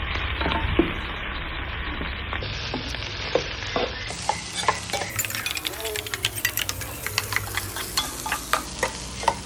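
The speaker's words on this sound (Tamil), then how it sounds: "எல்லாத்தையும் சேர்த்து போட்டு வதக்கும் போது அது நல்லா வதங்கி வந்துடும் வெங்காயமும்." Onions with ginger garlic paste stir-fried in a pan, a loud steady sizzle under repeated scraping and tapping of a spoon against the pan, close and continuous.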